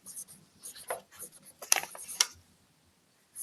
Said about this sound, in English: Oh, I can hear that Sharpie. It's very squeaky.